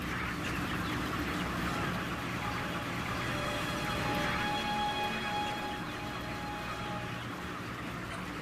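Broiler chickens packed into a crowded indoor shed, a dense constant wall of overlapping clucks and peeps with no pauses, steady and loud throughout.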